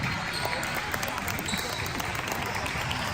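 Crowd applause in a gym during a girls' JV high school basketball game as an injured player gets up and walks off the court, a steady, dense wash of clapping throughout.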